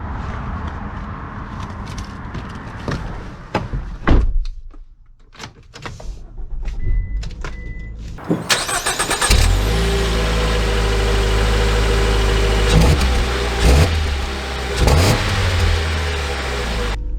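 A Ram ProMaster City van sits quiet with small clicks and a door thud, then the engine cranks and catches around eight seconds in, settling into a steady, loud idle with a brief rev.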